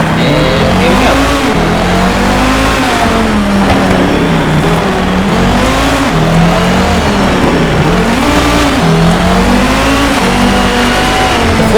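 A car accelerating in the racing video game Need for Speed Shift 2, played with a Logitech G29 steering wheel; a loud, steady engine note rises and falls through several gear changes across the whole stretch, with no talking.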